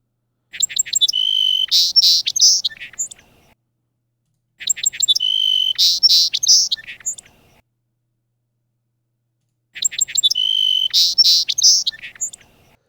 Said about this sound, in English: listen to a song sparrow and a house finch